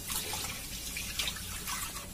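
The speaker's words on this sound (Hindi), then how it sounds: "तो अब हम इसमें जो हमने बेसन का पतला घोल तैयार किया था वो डाल देंगे।" Thin gram flour batter poured into a pot of water while stirring, a soft continuous liquid pouring and swishing, faint and steady with no talk.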